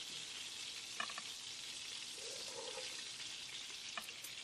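Meatballs browning in a pan while cooking an Italian wedding soup, giving a steady, close sizzle and fry hiss that runs without a break, with a few faint clicks of utensils against the pan.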